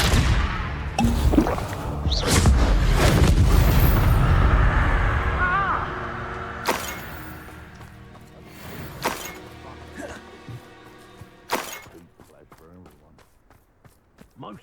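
Confringo explosive spell blasts in Hogwarts Legacy during a hard-difficulty dragon nest fight: a loud, rumbling burst that swells and fades, followed by several sharper impact thuds.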